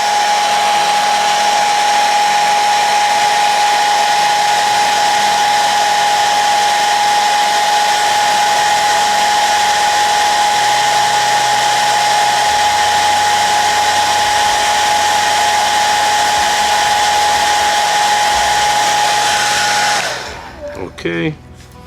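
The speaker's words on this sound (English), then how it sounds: "Now I'm going to use the hairdryer again. Put a nice amount of heat on it." A hair dryer blows with a steady, loud whooshing roar for about twenty seconds before shutting off, with faint handling noise afterward.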